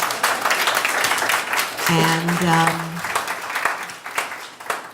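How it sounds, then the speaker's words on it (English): An audience applauds at an evening talk, with steady clapping running through the whole stretch while a voice speaks over part of it. "Please give them a big round of applause."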